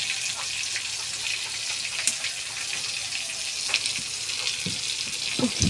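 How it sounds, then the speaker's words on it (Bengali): Potatoes and pointed gourd frying in a pan, a loud, continuous oily sizzle close by, with a few soft knocks of a spatula and no talk. "ভালো করে, লাল লাল করে ভেজে নিচ্ছি।"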